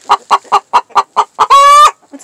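A hen clucks after laying an egg. Seven evenly spaced clucks come close and clear, and they end in one drawn-out loud squawk. A short softer call follows.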